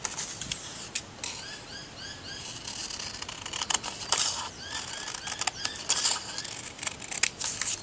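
Scissors snip through paper while cutting hinges for a bookbinding spine, a series of close, crisp cuts with short pauses, heard alone without talk.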